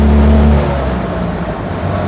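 A Fiat 500-based Impala Moke drones with a loud, steady, low engine rumble and heavy vibration while driving, heard close up from inside with no talking.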